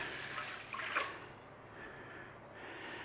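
Stock poured into a rice cooker for golden yellow rice, a close liquid splashing and gurgling that peaks then tapers off into quieter dripping.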